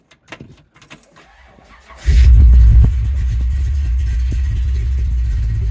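A 1966 Buick Skylark pro street with a 555 cubic inch Dart block V8 cranks and fires after a few quiet clicks and key sounds, bursting into a loud deep roar that settles into a heavy, lumpy rumbling idle.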